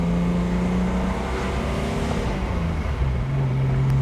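A 1962 Mercedes-Benz 220 SE Cabriolet engine hums steadily and close as the car accelerates, its pitch rising gradually, with a continuous engine drone and road noise and no talking.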